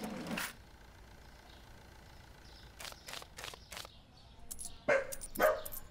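A dog barks in Supermarket Simulator, a sharp bark at the start and then a quick run of several barks later, with store ambience in the background and no talk.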